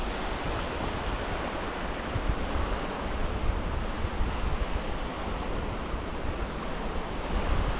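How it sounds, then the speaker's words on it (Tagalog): Rough sea waves break and wash continuously onto a Philippine shore during net fishing, a dense, steady roar of surf mixed with wind buffeting the microphone, with no voices heard. "Dito medyo maalon ngayon"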